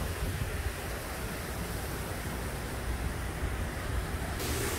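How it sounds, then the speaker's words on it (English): Steady, roaring hurricane wind from Hurricane Ian rushing without pause, a broadband blustery noise with low rumbling buffeting, loud and close, no voices. "Some strong gust of winds coming through."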